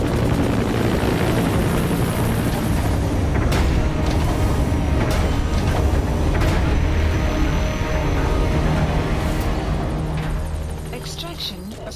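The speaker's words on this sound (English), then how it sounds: "Extraction, a support helicopter requested." A support helicopter in a video game arrives for an extraction, its loud rotor thump and engine roar dominating before easing off near the end.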